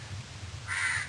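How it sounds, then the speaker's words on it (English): A crow caws once, a single loud harsh call near the end after a short quiet stretch of background hum. "Crow is a very clever bird."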